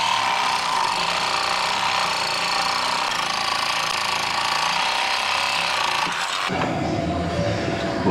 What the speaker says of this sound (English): we just take the Sawzall and we go ahead and cut it off